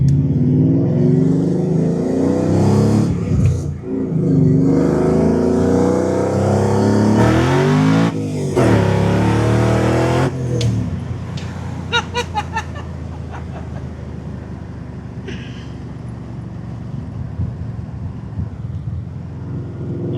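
A supercharged Coyote-swapped car engine pulls hard and loud with heavy wind rush, revs rising and dropping through gear changes, continuous for the whole stretch.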